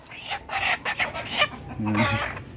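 A chicken clucks close by in short bursts, with some background voices or movement mixed in.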